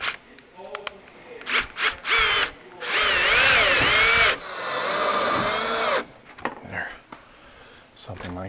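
A power drill drives black screws into carpet inside a truck cab, with several short bursts and two longer whirring runs up close, while someone talks quietly between them.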